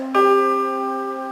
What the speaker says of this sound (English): The perfect fifth would sound like this.